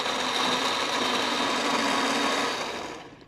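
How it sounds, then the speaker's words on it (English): A kitchen blender whirs steadily at high speed while processing tomatillos, a loud continuous motor drone that winds down at the end, with no one speaking. "I'm going to process these because I'm going to be adding more things to the blender."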